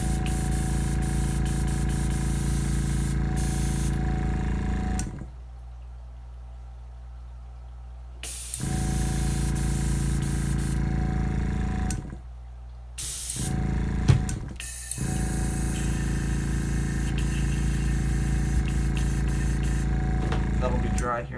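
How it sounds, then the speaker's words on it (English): An airbrush being cleaned after painting 3D crankbait lures hisses in long, loud bursts. Two clear pauses of silence break the spraying, one near five seconds and one near twelve, and no one speaks. "Just about got the airbrush completely clean."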